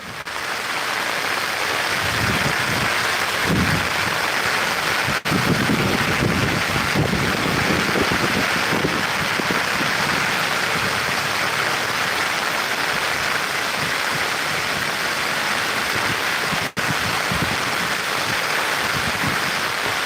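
Loud, steady rushing of the flooded Bharathappuzha river, overflowing its banks, fills the whole stretch, broadband and continuous with some wind buffeting, close by.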